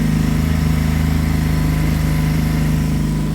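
Sea-Doo Spark 3Up personal watercraft engine, freshly repaired crank and coupler, cruising steadily at about 3,000 RPM, a loud continuous droning hum with no talk.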